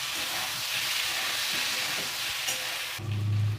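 Sliced mete alu (yam) drops into hot oil already used for frying fish, giving a loud, steady sizzle and hiss for about three seconds before it gives way abruptly to a low, rumbling bubbling.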